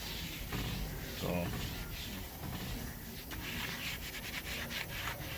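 A steering wheel is scrubbed with a cloth, giving a steady rubbing, sanding-like friction close by, with a voice talking over part of it.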